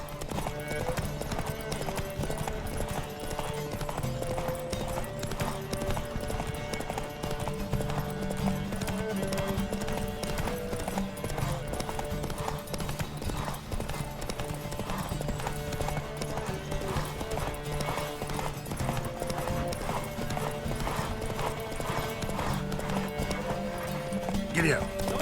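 Horses gallop in a race in The Witcher 3, with a continuous rapid clip-clop of hooves running throughout under a steady bed of music and game sound.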